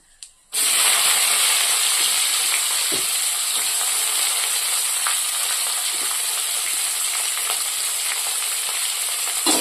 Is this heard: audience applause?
no